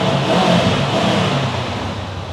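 Stock exhaust of a 2023 Honda CB500F roars as the engine is revved, the pitch climbing to a peak then easing back, loud and close with no talk over it.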